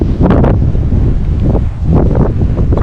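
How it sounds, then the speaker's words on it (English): Strong wind gusting by a small fishing pond, a loud roaring buffet battering the microphone in surges, with a faint rustle beneath and no voice. "There's no way anybody's going to be able to hear me either with this wind going crazy like this."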